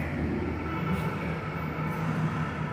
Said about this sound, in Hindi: लेकिन आ ही रही है मेट्रो.